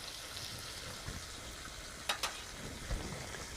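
Oil and fish cook slowly in a pan for a Bengali fish kalia, giving a soft, even sizzle close by. A few sharp metallic scrapes and knocks from stirring come in near the middle, and there is no speech.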